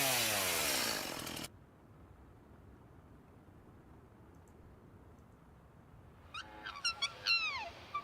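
In a video game set in the Australian outback, a mimicking bird gives a loud, buzzing chainsaw-like roar for about a second and a half, then after a quiet stretch lets out a series of rising, whistled calls.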